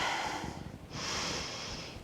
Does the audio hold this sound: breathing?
yes